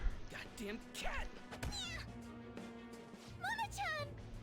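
A cat in the video game Persona 5 Royal lets out a string of short, strained meows and yowls over game music, mixed with speech.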